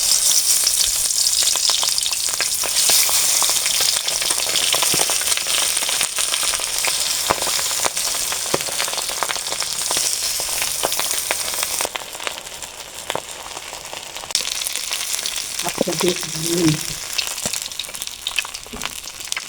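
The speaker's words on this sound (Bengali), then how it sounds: "মাছগুলো একদম লালচে লালচে করে ভেজে নিয়েছি" Pabda fish frying in hot mustard oil in a kadai, a steady loud sizzle with crackling that runs throughout, dipping slightly partway through before rising again.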